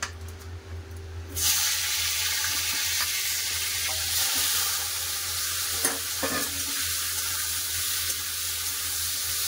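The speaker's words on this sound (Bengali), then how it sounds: "তেল গরম হয়ে গেছে, দিয়ে দেবো কাঁকরোল।" Spiny gourd (kakrol) slices dropped into hot oil in a wok burst into loud continuous sizzling after a quiet start, with a low hum underneath and a few stirring clicks, close and without talk.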